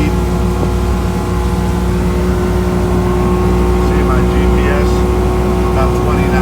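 A 20 ft Boston Whaler Revenge with a Johnson 150 Ocean Pro outboard runs at about 20 knots, its engine a loud, steady drone over rushing water and wind, with someone talking over it.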